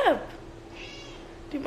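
Cat waking from a deep sleep, giving two short, fairly close meows, one at the start and one at the end, with a quiet pause between them and no speech over it.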